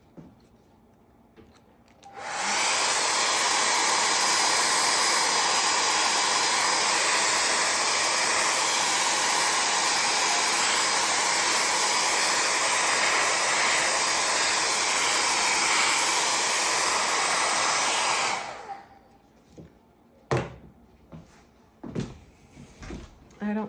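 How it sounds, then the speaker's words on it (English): A blow dryer runs at full power for about sixteen seconds drying feathers, with a steady, loud whooshing roar, then shuts off, followed by scattered handling clicks. "So I'm going to dry this right now with a blow dryer"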